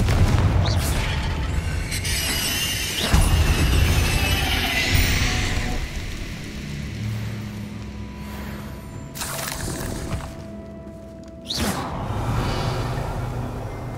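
Confringo spell blasts in the Hogwarts Legacy video game: booming explosive bursts with whooshing swishes, a few sharp impacts spaced across the stretch over a rumbling low background, loud near the start and again toward the end.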